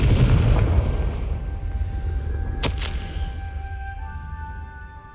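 Confringo fire-blast spell going off in Hogwarts Legacy, a loud, close boom that rolls off over several seconds, with a sharp crack partway through and ringing magical tones fading out at the end.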